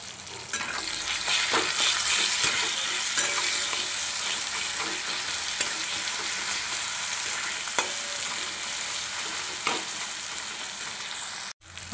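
Salt and turmeric powder are stirred and fried in a hot pan, giving a steady, close sizzle broken by occasional scrapes and clinks of the spoon, with no voices.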